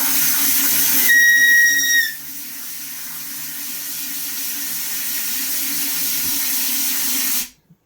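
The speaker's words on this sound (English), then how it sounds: "What was that? The water line coming in." A water line feeding into a building hisses loudly with escaping air, a brief whistling tone riding over the first second, then a steady broadband rush that continues until it cuts off abruptly.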